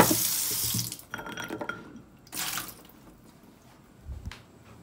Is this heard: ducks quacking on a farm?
no